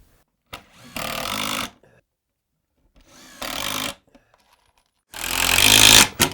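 Power drill driving Kreg screws into a wooden bed drawer frame: three separate whirring bursts, each lasting about a second, up close and loud with quiet gaps between them, and the last burst is the strongest.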